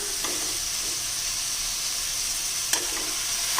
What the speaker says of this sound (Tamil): இப்போ நம்ம சுத்தம் பண்ணி வச்சுருக்க சிக்கன் சேர்த்துடலாம்